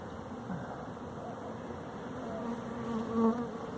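A large swarm of honey bees hums steadily outdoors as they gather toward a tree branch, a continuous dense buzz that swells slightly near the end.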